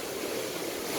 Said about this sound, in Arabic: وعندكم الشلال الثاني